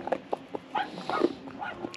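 A thin, hungry stray female dog that appears to have recently given birth whines close by in short, repeated, high whimpers spread over a couple of seconds.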